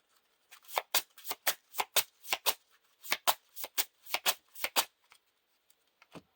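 Cards from an encounter deck in a Lord of the Rings living card game are riffled in a rapid series of sharp, crisp bursts, close up, followed by a couple of soft taps at the end.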